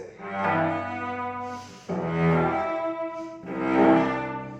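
A cello plays Elgar's concerto with Baroque-style broken chords, three rich bowed swells in a row, each chord rolled upward, clear and close with no talk.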